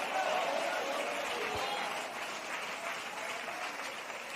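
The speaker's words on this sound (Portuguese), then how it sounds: "Vamos lá, mais forte, batendo palma e dando glória a Deus" A church congregation claps and applauds steadily during a worship service, a dense, continuous wash of hand claps that fills the room and stays even throughout.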